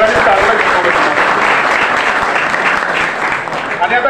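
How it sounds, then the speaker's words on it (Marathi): Audience applause for the teachers at a 12th-grade farewell ceremony: dense, steady clapping from a large crowd that fills the whole stretch at an even, loud level with some voices mixed in. "आता शिक्षकांसाठी एकदा जोरदार टाळ्या वाजवूया"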